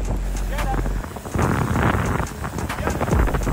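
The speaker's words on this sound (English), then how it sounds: "Oh, it's windy as fuck." Heavy wind buffets the microphone during a motorbike ride at a large UK street rideout in 2023, a loud rumbling gusty roar that surges and drops unevenly throughout.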